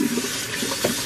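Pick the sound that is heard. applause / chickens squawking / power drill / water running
water running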